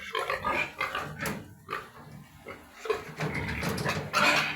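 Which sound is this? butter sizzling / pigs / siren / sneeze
pigs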